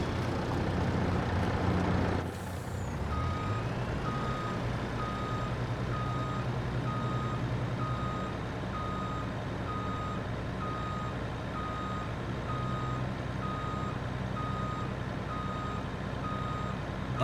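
Farming Simulator 22 truck engine idling with a regular reversing beep repeating steadily, after a brief air-brake hiss near the start; no talking.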